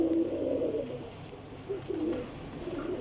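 Flying pigeons coo nearby in a few low, rolling bursts, fairly quiet, with one faint high chirp and no speech.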